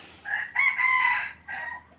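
A rooster crows at feeding time, a loud close call held for about a second, then a shorter second phrase, with nothing else audible.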